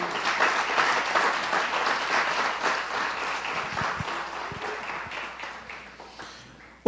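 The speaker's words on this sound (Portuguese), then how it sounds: "Dê uma salva de palmas ao Senhor." A church congregation claps during an evening service, a dense, steady patter of many hands at moderate volume that thins slightly toward the end.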